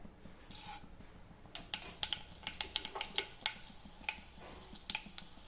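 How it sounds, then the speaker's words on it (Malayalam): Mustard seeds crackle in hot coconut oil while a Kerala-style banana flower thoran is started, a faint sizzle broken by sharp, irregular pops that grow more frequent as the seeds burst. "വെളിച്ചെണ്ണ നന്നായിട്ട് ചൂടായിട്ടുണ്ട് നമ്മൾ കടുക് കൊടുക്കുകയാണ്"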